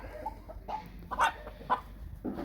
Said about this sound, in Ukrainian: Бачимо, півник кучерявий працює.